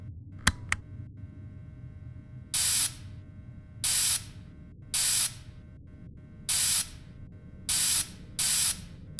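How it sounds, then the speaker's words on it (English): Six short hissing bursts of a spray can spraying a suit in a video game, evenly spaced, over a low steady hum, with a couple of sharp clicks at the start. "So go ahead and start spraying the suit"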